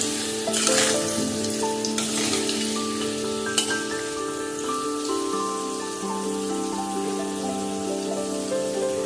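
Cut potatoes fry steadily in oil in a wok after spiced koftas of green plantain, a continuous crackling sizzle like rain heard under background music throughout.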